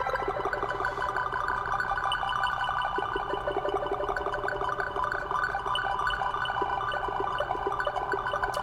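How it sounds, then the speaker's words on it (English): Guitar through a ZOIA pedal's echo, the delay time swept by an LFO so repeats spread apart and bunch together, a steady sustained wash of tones running throughout with no talking. "the space between the echoes on the sides is going to increase and decrease"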